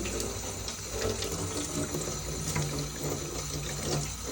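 Tap water runs into a kitchen sink over freshly boiled potatoes being cooled for mashed potato, a steady splashing stream with small shifts in tone as the potatoes are moved under it, close and continuous.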